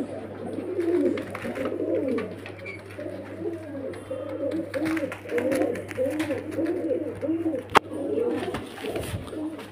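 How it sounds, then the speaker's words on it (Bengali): Several pigeons coo continuously in soft, rolling overlapping calls, close by, with a steady low hum underneath and one sharp click near the end. "এই যে এইসব পায়রাগুলো দেখুন, খুব সুন্দর কোয়ালিটির বাজি।"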